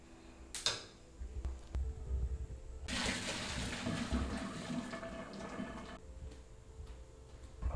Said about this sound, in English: We'll strain the Eddoes.